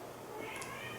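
A domestic cat gives a single short, faint meow, a brief high call over steady room noise.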